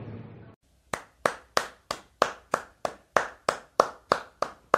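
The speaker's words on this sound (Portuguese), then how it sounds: "Aplausos e mais aplausos e mais aplausos e mais aplausos para o capitão do Tetra Dunga." About a dozen single, evenly spaced hand claps ring out sharply and close by after a brief pause, in applause for football captain Dunga.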